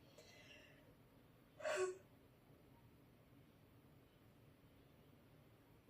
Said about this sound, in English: See, it makes me yawn.